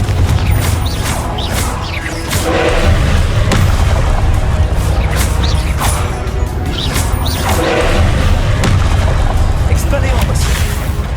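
Repeated fiery spell blasts from the Confringo curse in the wizarding game Hogwarts Legacy, loud booming bursts with whooshes landing every couple of seconds over a dense, continuous din of game combat noise.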